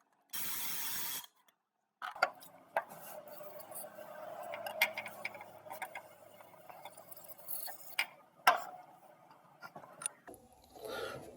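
A ratchet clicks and grinds in uneven bursts as exhaust manifold bolts on a 2008 Chevrolet Trailblazer are worked back and forth, with metallic clanks and a steady mechanical hum underneath.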